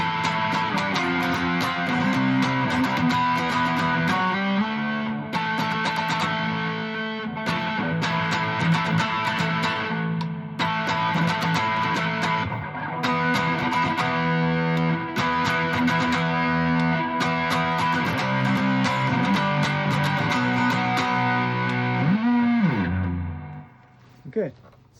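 A modified vintage Telecaster electric guitar cycles through different tones from its rewired harness, sustained chords and notes ringing loud and continuous for about twenty-three seconds with brief breaks between phrases before fading out.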